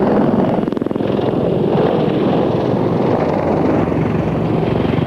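A military attack helicopter flies at the 1993 RAF Fairford International Air Tattoo, its rotor and turbine making a loud, steady, throbbing roar that fills the air, nearby and unbroken, with a voice barely starting over it.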